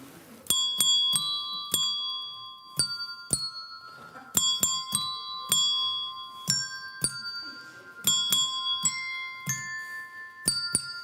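Handbells or chime bells rung one after another in an uneven tune, clear bright ringing strikes with long sustained tones, about two dozen hits over a quiet room, nearly alone with little talk.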